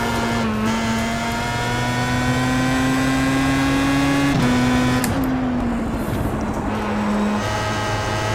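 A Pro Mazda race car's engine drones on throttle around Brands Hatch, a loud sustained onboard tone whose pitch rises gradually, dips briefly, then shifts between steady levels as the driver modulates the throttle.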